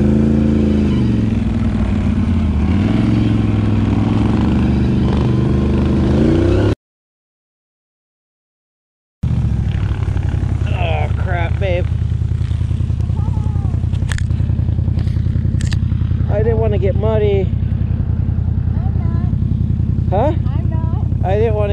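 A 2020 Can-Am Outlander XMR 850 ATV drives through snowy winter bush, its engine droning and revving loudly up close as snow crunches and scrapes beneath it, and someone talks over part of the run.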